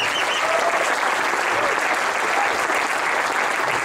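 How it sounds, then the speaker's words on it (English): Audience applause at a jazz festival artist talk, a dense, steady wash of clapping from a large crowd that holds level throughout with no break. "So I think we should give them a round of applause for their efforts for that too"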